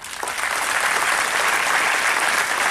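A college auditorium audience in Gujarat claps for a music troupe: a loud, sustained wall of applause that swells quickly at the start and holds evenly to the end.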